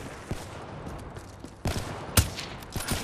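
Rapid gunfire crackles in a first-person shooter game, with a steady rattle of automatic shots and a few sharper, louder bursts near the end, heard close over a low background hum.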